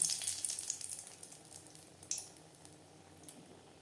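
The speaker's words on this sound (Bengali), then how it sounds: "লঙ্কা হালকা করে ভেজে নেব" Two dried red chillies frying lightly in about three spoons of hot mustard oil in a kadai, giving a soft, steady crackle with a few brighter pops, close and alone with no voices.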